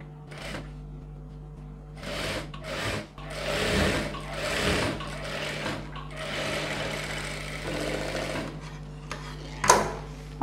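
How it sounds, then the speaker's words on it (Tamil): A sewing machine stitches a folded cloth border on a silk pavadai in several start-stop runs, rattling close up over a constant low motor hum, with a sharp click near the end. "இப்போ இந்த சைடில் இருக்கிற ஃபோ கிளாத் அப்படியே மடித்து ஸ்டிச் பண்ணிடலாம்"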